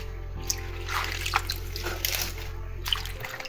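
Water sloshes and trickles as homegrown salad greens are rinsed in a basin, a close, steady splashing and dripping over a low constant hum, with soft talking in the background.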